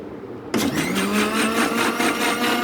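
A mixer grinder starts abruptly and whirs loudly and steadily, blending rose milk with a close, pulsing motor drone and no voices.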